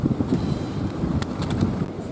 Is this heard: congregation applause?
no